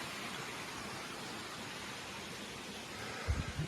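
A river rushes steadily beneath a log along a wooded hiking trail, a broad even hiss of flowing water close by, with a few soft thumps near the end.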